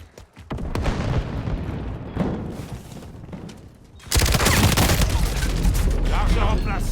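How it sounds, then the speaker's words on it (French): Call of Duty Modern Warfare beta online match: a sticky grenade blast and rattling gunfire, first scattered shots and rumbles, then a sudden loud burst of dense automatic fire and booms taking over. "Bombe collante lancée"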